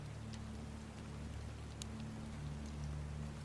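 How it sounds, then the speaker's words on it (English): Rain patters on window glass, a faint steady hiss with scattered soft drop ticks over a low constant hum, quiet and continuous. "and the rain is on the glass"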